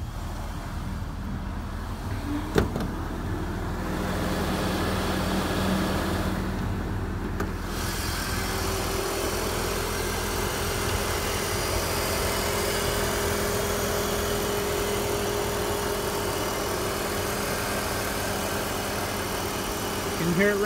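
A 2006 BMW X3 idles with its hood open at a public car auction in Las Vegas, giving a steady, moderate engine hum throughout. A couple of brief clicks come early on, and no one talks.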